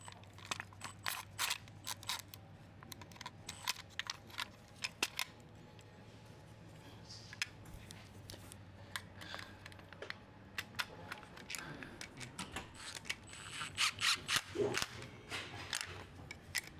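Short metallic clicks and taps, irregular and close, as bolts on a Blitz mass airflow sensor bracket are tightened on an R34 Nissan Skyline, with brief pauses between bursts.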